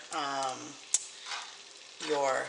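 Pork frying in a pan for fried rice, a faint sizzle with a single sharp clink, heard beneath a voice talking at the start and end.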